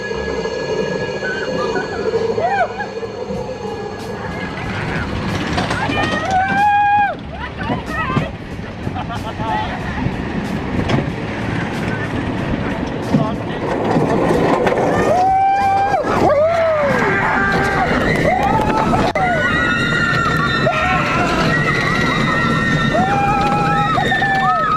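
A roller coaster ride with steep drops and inversions, a continuous loud rushing rumble of the train on the track, with riders' screams rising and falling throughout the ride.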